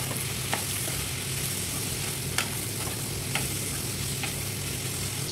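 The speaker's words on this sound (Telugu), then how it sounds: "ఒక 4 రెమ్మల కరివేపాకు, వేసుకొని కలుపుకోవాలి." A few sprigs of curry leaves fry in a pan with ivy gourds during cooking, giving a loud, steady sizzle with occasional sharp crackles and light stirring scrapes close up.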